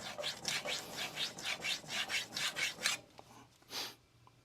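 Steel blade strokes across a DMD resin-bonded diamond sharpening plate, a steady run of close, rasping passes in even rhythm, then a short pause and one last single stroke.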